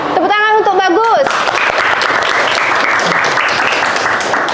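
Classroom pupils applauding a classmate, bright sustained clapping from many small hands right after a short spoken phrase, continuing loudly and evenly to the end.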